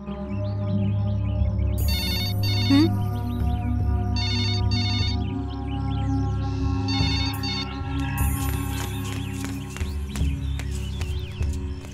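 A telephone ringing indoors in a Hindi crime drama, the repeated electronic ring bursts standing out over continuous background music and sound effects.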